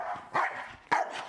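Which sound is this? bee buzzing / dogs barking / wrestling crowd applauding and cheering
dogs barking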